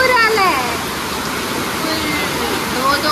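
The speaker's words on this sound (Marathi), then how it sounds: "खूप पाऊस पडतोय." Heavy monsoon rain in Goa's Konkan region, a dense, continuous hiss of pouring water with flooding nearby and faint voices in the background.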